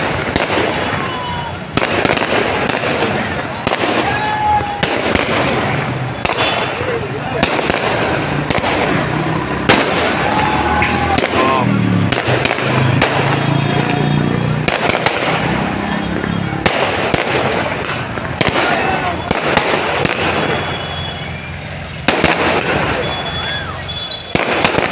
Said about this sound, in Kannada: ಆಗಲೇ ಸ್ಟಾರ್ಟಿಂಗಾಗಿ ಪಟಾಕಿ ಹೊಡೆದ್ರಪ್ಪ